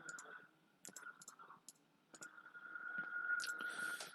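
A computer mouse gives a handful of soft, sparse clicks at close range over a faint, steady electronic whine.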